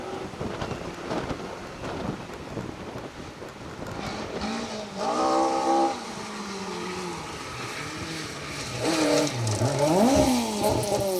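Ford Escort RS 1800 historic-spec Mark II rally car passing on a Severn Valley stage, engine note rising and falling in rough revving sweeps, growing louder toward the end.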